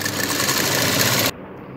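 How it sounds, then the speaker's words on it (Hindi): Sewing machine stitching the half-inch folded edge of a kurti collar, a close, fast mechanical whir lasting just over a second before cutting off abruptly, with no talking. "देखिए आपको इस तरीके से यहाँ पर स्टिच करना है"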